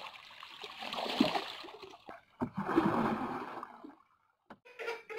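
Water pours and splashes onto a wheat field in two bursts, a rushing gush followed by a pause and a brief final splatter.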